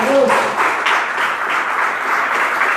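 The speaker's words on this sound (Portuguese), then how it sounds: "Aplauda o Senhor nessa noite." A church congregation claps during an evening service, a steady, moderately loud patter of many hands with a brief voice at the start.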